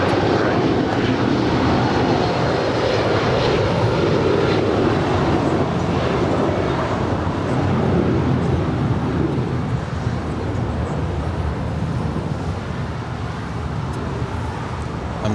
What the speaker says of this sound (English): That was United 792 departing LAX for Newark